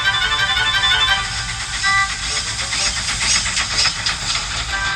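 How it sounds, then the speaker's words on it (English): Continuous loud steam hisses from a steam locomotive as it moves gently into a station, with faint rhythmic pulsing in the later part. "He steamed gently back into Knapford Station."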